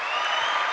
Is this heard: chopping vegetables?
no